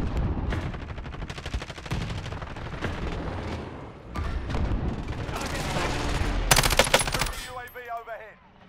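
Dense bursts of automatic gunfire and booming explosions from a Call of Duty Warzone match rattle out in quick volleys over several seconds, closing with a louder flurry of shots and a fading ricochet-like whine.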